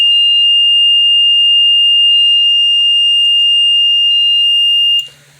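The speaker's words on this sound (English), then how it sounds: "And of course he's not happy with his alarm." A JLD404 panel meter sounds its low-voltage alarm as a steady, loud high-pitched electronic tone with a faint pulsing undertone, holding unbroken for about five seconds before cutting off abruptly.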